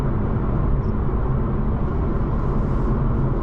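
A BMW G42 M240i xDrive coupe driving fast, a loud, steady low roar of engine and road noise filling the few seconds without any talking.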